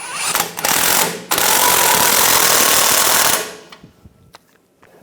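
A power tool tightens rear lower control arm bolts on a Ram 1500 pickup in one loud, sustained mechanical burst of about three seconds close by, then stops, followed by a few faint clicks and clanks.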